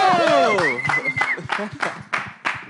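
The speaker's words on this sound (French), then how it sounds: "applaudissez pour mon pasteur" Scattered clapping from a small church audience welcoming a pastor, with sharp irregular claps under a burst of voices and cheering.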